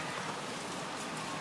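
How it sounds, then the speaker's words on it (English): Steady rain falls outside, a dense, even hiss of drops on surfaces that holds at a constant moderate level with no voices or other sounds. "it's still raining out there"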